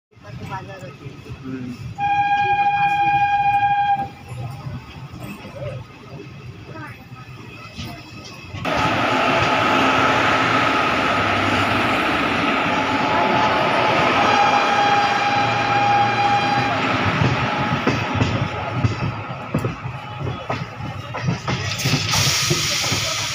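A passenger train, the Digha–Malda Town special, rumbles and hisses loudly and continuously between Panskura and Kharagpur, with a horn-like tone early on and a speaking voice mixed into the running noise.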